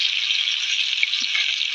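Pieces of food fry in a pan with an even, bright sizzle that holds at a constant level throughout, close by and with no voices.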